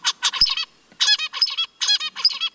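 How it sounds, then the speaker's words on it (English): Zebra finch song: rapid bursts of bright, nasal, honking syllables repeat in three quick phrases, close and clear against a quiet background. "So that's a typical zebra finch song."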